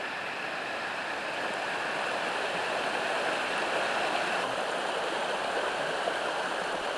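Water pours steadily over the Robertson Weir, a 1971 structure on the Nepean River at East Kangaloon. It makes a continuous broadband rush with no break, fairly loud and close, and no voices are heard.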